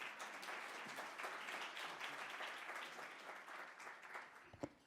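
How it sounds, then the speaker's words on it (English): Applause rises from the crowd at the City of Melbourne's National Reconciliation Week Oration, a sustained, moderately distant patter of many hands clapping that thins slightly toward the end, with one sharp knock near the close. "Another round of applause, right?"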